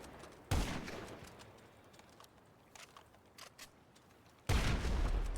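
Gunfire in the GTA video game: two loud, dense bursts of shots at the start and end, with a quieter stretch of faint clicks and taps in between.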